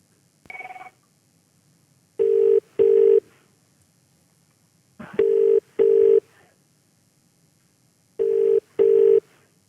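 A recorded call-back to someone whose phone dialed the Australian emergency number 000: a brief tone, then three pairs of ringback bursts in steady double rings, clear and moderately loud with no talk.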